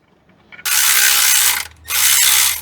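A ratchet wrench spins a bolt in on a Chevelle, two long loud bursts of rapid clicking close up, separated by a brief pause, with no talk over it.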